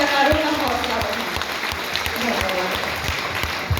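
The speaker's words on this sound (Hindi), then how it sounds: "एक जोरदार तालियों से हमारे कलाकारों का हौसला बढ़ाएं" An audience claps for classical dance performers at a school event, dense sustained applause with occasional louder individual claps, and a voice speaking over it.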